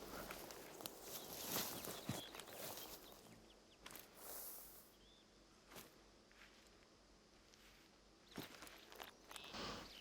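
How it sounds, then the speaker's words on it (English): Footsteps in the hunting game theHunter: Call of the Wild, set in a valley, come as a few soft, scattered crunching steps against quiet outdoor ambience, faint and some distance off. "Okay, I'm hearing footsteps."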